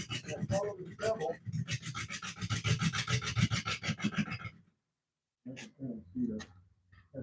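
A lathe gouge riding its bevel cuts into a walnut bowl, producing close, rhythmic rasping scrapes in quick pulses that stop for a moment of silence before starting again.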